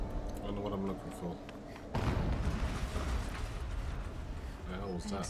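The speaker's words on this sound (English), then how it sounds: "What the hell was that? Explosion." A big explosion in the Horizon Zero Dawn video game, a sudden loud low boom and rumble about two seconds in that swells over earlier game sound and lingers for several seconds.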